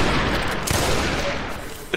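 Pirates in the Roblox game Tradelands fire a volley of guns together, making a dense, loud crackle of overlapping shots that fades over two seconds, with one more pop at the end.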